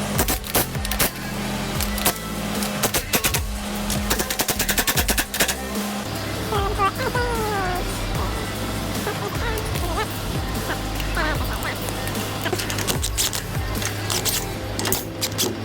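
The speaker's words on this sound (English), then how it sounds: "Finishing off taking these U-bolts out of there so we can drop the axle enough to get these blocks in there." Power tool removing U-bolts from the rear axle of a 2023 Chevy Silverado 2500HD during a lift kit install: rapid rattling impact-wrench bursts, then a steady whirring run, loud and close, alone with no talk.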